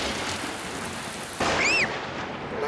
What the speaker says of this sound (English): Mummy, the thunderbags are very loud.